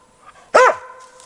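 A hunting dog gives one loud, close bark in a snowy forest during a hunt for hazel grouse. Faint sounds are audible before it and a quiet tail follows.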